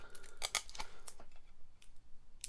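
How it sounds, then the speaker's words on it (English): Scissors snip through sellotape on a custom mystery box from Japan, a close, quiet run of quick crisp cuts and rustles in an irregular rhythm. "So rely on the scissors"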